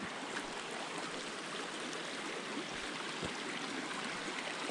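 A forest creek up Siskiyou Forks in early January flows with a faint, steady, distant wash of water that stays even and unbroken throughout.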